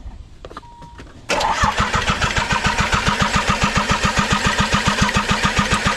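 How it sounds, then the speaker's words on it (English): A Nissan KA24DE engine swapped into a 300ZX cranks without catching: after a few faint clicks, the starter churns in a fast, even, loud rhythm for several seconds, close up with no voices. "Go ahead, Tim, crank her over."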